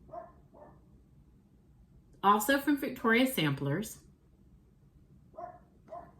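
A dog barks in a burst of several loud, close yips and barks, with someone talking quietly before and after.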